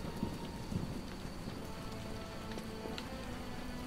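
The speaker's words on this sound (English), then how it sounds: "It's raining." Steady rain falls in The Witcher video game, a dense, continuous hiss of drops with a few low rumbles near the start and no voices.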